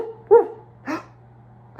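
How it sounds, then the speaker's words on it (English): A dog gives two short barks spaced about half a second apart, then a third begins, sounding close and clear rather than distant, over a faint low hum. "she could hear barking in the distance"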